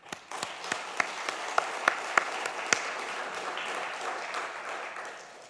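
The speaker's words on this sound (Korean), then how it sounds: "하나님께 박수합시다." A church congregation at a Korean sermon breaks into applause, a dense wash of clapping with a few louder individual claps standing out, fairly distant and sustained for several seconds before slowly thinning.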